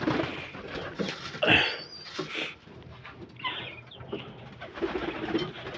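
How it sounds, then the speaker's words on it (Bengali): Pigeons coo repeatedly in a loft at morning feeding time, soft overlapping throaty calls near and far, with light scuffling and wing movement in the background. "কবুতরগুলা খাবার খাইতে চলে আসছে।"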